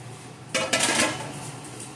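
Glass jars clink and knock against metal as they go into a pressure canner. A short cluster of close, bright rattles fades back into a quiet room.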